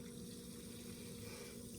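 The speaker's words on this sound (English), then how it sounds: "maybe I'll just pour it out and be easier to see." Red ume soda pours out in a steady liquid stream that is continuous and fairly close, with no talking over it.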